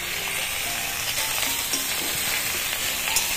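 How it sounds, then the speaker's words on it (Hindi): Cauliflower cooks in a pan with onion, giving a steady close crackling sizzle with faint scraping of stirring, fairly soft and continuous, without talk. "यहाँ पर गोभी पक रही है"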